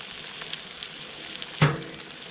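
Food sizzles steadily in a wok over a campfire, a soft continuous frying hiss with a sharper clack of stirring near the end.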